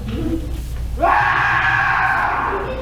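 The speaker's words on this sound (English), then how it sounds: "I'm really tired of hearing that guy scream." A man lets out a loud, sustained scream that starts suddenly and holds steady for nearly two seconds over a low background hum.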